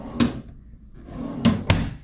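Hotel room drawers in a Disney resort room slide and bump shut, with three sharp wooden knocks spread over a couple of seconds, close and clear, no talking.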